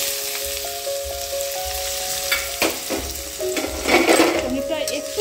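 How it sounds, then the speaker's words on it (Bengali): Paneer frying in white oil in a pan, a close, steady sizzle with bubbling crackle and occasional stirring scrapes, continuous throughout. "পনিরটা প্রথমে একটু ভেজে নেব।"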